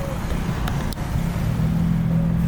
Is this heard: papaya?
no